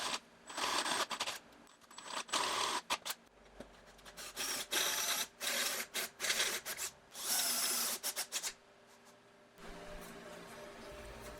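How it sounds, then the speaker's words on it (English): Step drill boring through the down tube of a compact electric cargo bike frame, giving loud grinding, rasping bursts in short on-off runs with pauses between, close up and without speech. "drilling it with a step drill and then doing the same under the battery base for the main power cable"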